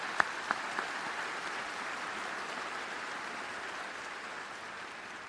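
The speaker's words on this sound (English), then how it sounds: "Please help me in providing a round of applause to these university leaders." Audience applause for university leaders at an Auburn University summer commencement ceremony, a steady wash of clapping from a large crowd lasting several seconds with a few sharper claps near the start.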